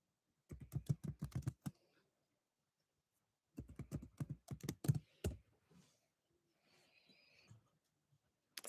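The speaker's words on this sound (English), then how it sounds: "I'm just typing this." Typing on a computer keyboard in two quick bursts of rapid clicking keystrokes, close and fairly loud, separated by pauses, with faint breathing and soft rustling near the end.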